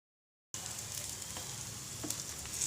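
A rolled drumstick leaf paratha laid on a hot griddle gives a steady, fairly quiet sizzle that starts abruptly after a brief silence and continues evenly, with a faint tap or two, no talking.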